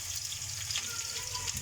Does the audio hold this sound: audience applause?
no